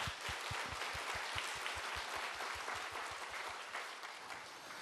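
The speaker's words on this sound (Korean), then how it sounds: "우리 박수로 하나님께 영광 드리겠습니다" A church congregation at a Wednesday worship service claps together in a steady, rhythmic beat, a quick even pulse of many hands over a bright wash of scattered clapping that eases slightly near the end.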